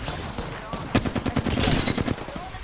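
Rapid bursts of automatic gunfire from the Apex Legends video game, a short clustered volley of sharp cracks at mid distance, heard under players talking.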